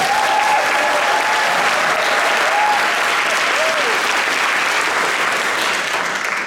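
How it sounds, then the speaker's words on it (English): An audience at a scholarship award ceremony applauds in a large hall, producing a sustained, even wash of clapping with a faint murmur of crowd noise underneath. "So let's give them all another big round of applause."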